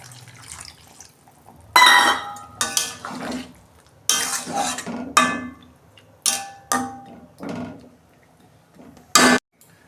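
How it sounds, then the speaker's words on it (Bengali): Water goes into a cooking pan of chichinga and potato posto in short, separate splashing bursts, with light metallic clinks between them and quiet pauses in the kitchen. "আমি জল দিচ্ছি পরিমাণ মতো"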